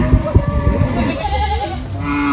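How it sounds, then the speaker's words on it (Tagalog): Goats bleat at a livestock dealing spot among cattle: several loud, close, wavering cries come in quick succession, then a lower drawn-out bleat over a busy outdoor background. "May binibenta pa si Dudong na kambing"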